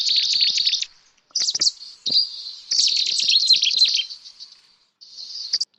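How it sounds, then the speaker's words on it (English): A Cetti's warbler sings by a river, close and clear, in several bright, rapid bursts of song separated by short silences. "And this is Catis warbler."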